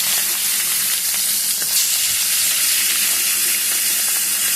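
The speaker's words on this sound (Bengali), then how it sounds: "তেলটা পুরো খুব সুন্দর করে গরম হয়ে গেছে পুরোভাবে। চলো মাছটা এবার ছেড়ে দিই।" Hilsa fish fries in hot oil in a pan, giving a loud, continuous close sizzle and hiss that stays steady throughout with no voices.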